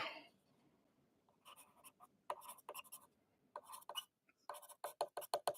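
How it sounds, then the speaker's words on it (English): A marker writing a label by hand at close range, a quiet series of short squeaky scratching strokes in uneven bursts, with near-silence between words. "So I'm going to write"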